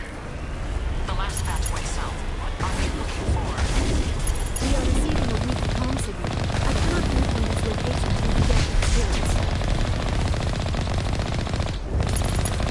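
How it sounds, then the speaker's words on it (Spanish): Continuous heavy gunfire and cannon blasts from Geth colossi in the video game Mass Effect rumble and crackle without pause, loud and dense, with a voice speaking over the barrage. "me estoy comiendo todos los cañonazos de los colosos Geth"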